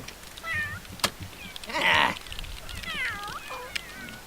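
A cat meows several times, with short rising mews and one longer, louder cry in the middle, over a quiet room with a few sharp knocks.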